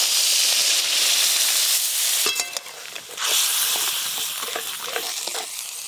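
Water poured into a fish curry of small rohu-type fish cooking with green chillies and raw mango in a hot pan sets off a loud sizzling hiss, a brief sputtering burst, then a renewed steady steam and bubbling; no talk.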